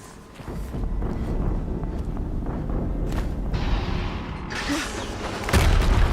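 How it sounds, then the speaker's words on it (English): An explosion in the video game Horizon Zero Dawn: a deep rumbling boom that swells and rolls, then a second, louder blast bursts near the end amid windy, noisy background. "Another explosion."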